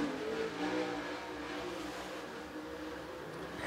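Dirt late model race car on a qualifying lap at Clarksville Speedway, its engine a faint, distant, rough roar that rises and settles briefly under a noisy background.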